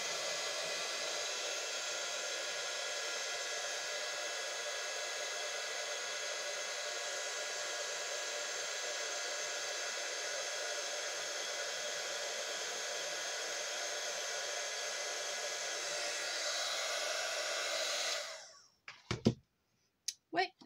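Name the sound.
hair dryer blowing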